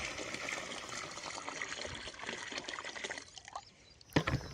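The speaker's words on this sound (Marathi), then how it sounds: "नंतर ते बॅरलमध्ये ओतायचं।" Tamar pesticide mixture dissolved in water in a bucket being poured into a barrel, a soft continuous splashing pour that thins out near the end, followed by a brief knock.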